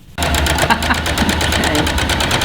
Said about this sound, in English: you're going to stitch up this shoulder seam